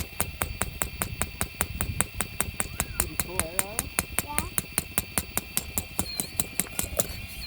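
A hydraulic hammer pounding hardened dirt with rocks, delivering rapid, evenly spaced sharp impacts, about four per second, close and loud, with a faint high squeal between blows.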